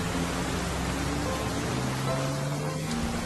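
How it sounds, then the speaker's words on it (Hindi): Heavy rain falls in a steady, dense hiss that fills the whole scene without a break, loud and close, with faint tonal hums underneath. "बारिश काफी हो रही है"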